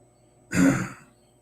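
A single short, throaty cough, close by and alone, lasting about half a second amid silence.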